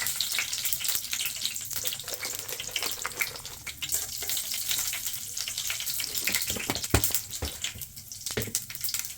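Seeds crackle and sizzle in hot oil with sharp pops and spits over a constant frying hiss, close by.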